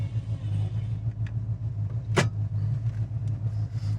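A 1969 Pontiac GTO's deep, steady engine idle rumbles close by with a low, even throb, broken once by a brief sharp high-pitched squeak.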